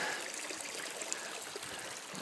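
A creek along a beach hiking trail trickles and burbles close by, a bright continuous splashing flow with small droplet pops scattered through it and no talking.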